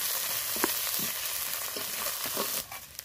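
Turmeric and red chilli powder sautéing in hot oil, a dense, loud, continuous sizzle with rhythmic stirring strokes under it, close and without any talking.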